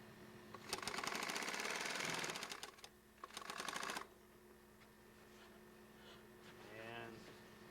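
Sewing machine stitching a gusset into the smoke flap of a canvas teepee, two bursts of rapid running stitches, the first longer and the second shorter, followed by quieter handling and a brief voice.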